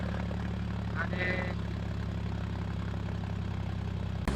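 A heavily loaded tractor drives at night, its engine holding a steady, loud, droning throb with a strong low hum throughout. A brief voice comes in early on.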